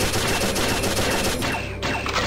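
Rapid automatic gunfire from a weapon in the Pixel Gun 3D shooter game, a loud continuous fusillade of shots with no pauses for its full length.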